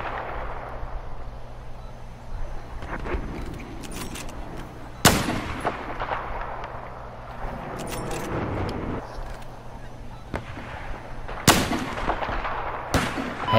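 Sniper rifle fire in the Battlefield 4 video game. Several sharp, loud, widely spaced reports crack over a constant battlefield rumble, with distant thuds and shots scattered between them.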